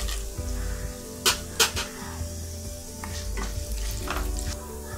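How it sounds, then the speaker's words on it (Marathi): Curry leaves and chilies sauté in hot oil for instant lemon rice, giving a steady close sizzle broken by a few sharp scrapes of a utensil against the pan. "कढीपत्ता, मिरची चांगली परतून घेऊया"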